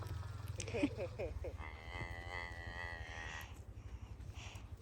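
A cow on a farm moos in a long, drawn-out call toward its large calf during weaning, preceded by shorter grunting sounds, with steady low rumbling noise underneath throughout.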